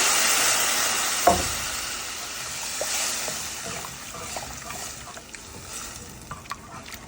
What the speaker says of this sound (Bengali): ভালো করে মশলাটা কষে আমরা একটু পানি দিয়ে